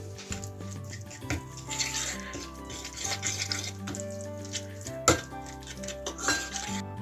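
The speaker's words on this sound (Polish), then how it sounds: "Mieszamy." Dough ingredients with herbs, oil, salt and pepper are mixed in a bowl for a tomato-garlic bread, giving close clinks and knocks of a utensil against the bowl in an irregular rhythm.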